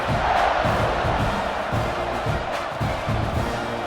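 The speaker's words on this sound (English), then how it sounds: "this crowd is buzzing after that last score" A stadium crowd in a college football video game buzzes after a score, a dense continuous roar with rhythmic chanting pulses, heard alone at steady volume.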